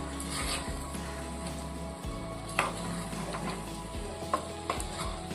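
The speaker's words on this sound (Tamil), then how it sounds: "உப்பு சேர்த்து மசாலா கூட நல்லா கலந்துருவோம்." A spoon scrapes and stirs chicken leg pieces with masala and salt through a sizzling pan. Scattered clinks and scrapes sit over a steady frying hiss, close up.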